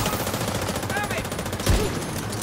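Enemy gunfire in The Division 2 as a steady, dense rattle of rapid shots, with one heavier thump near the end and a voice under the noise.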